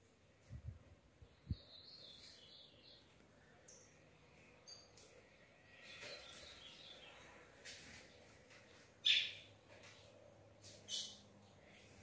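Faint, thin chirps and peeps from a hungry, sick young bird come in scattered bursts over a quiet background, with a few soft knocks and rustles.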